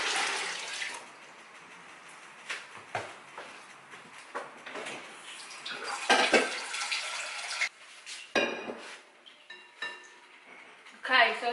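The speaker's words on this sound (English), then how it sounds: "Add more water, so another 3 litres of water" Water goes into a blueberry wine mix in irregular bursts of pouring and splashing over about eleven seconds, moderately close, with clunks of a container between pours.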